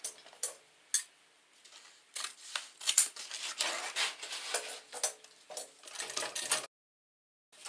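Scissors cut through curtain fabric in a string of crisp snips and rustles at close range, with short pauses between some of the cuts, and no talking.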